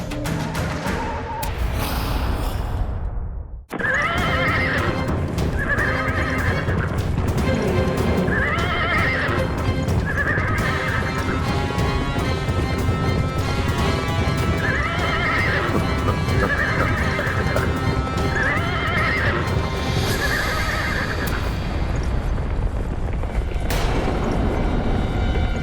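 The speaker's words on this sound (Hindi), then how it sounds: "रथ की गड़गड़ाहट रुक गई।" Horse-drawn war chariot in a mythological battle scene, with a steady loud rumble of wheels, rhythmic clip-clopping hooves, and a series of repeated horse neighs and whinnies across most of the stretch after a brief opening.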